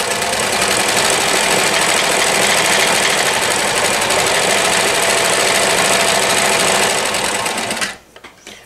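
A 1994 New Home Special Edition Model 108 sewing machine runs in one loud, steady burst of rapid stitching, close up, winding down and stopping near the end.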